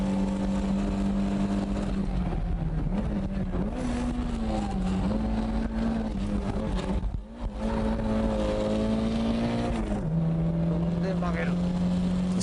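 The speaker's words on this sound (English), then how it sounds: "What I'm doing is simply turning the car with the gas pedal." A car engine drones and revs steadily while the car drifts on the gas, pitch rising and dipping with throttle changes, loud and close, with a brief drop in the middle.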